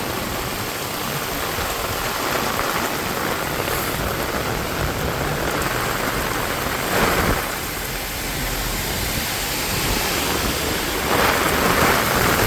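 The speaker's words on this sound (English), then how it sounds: "What a huge amount of rain falls down over here in just probably 10 minutes." Heavy rain in Benidorm pours down steadily in a dense, continuous roar, with occasional louder surges of rushing water and no voices.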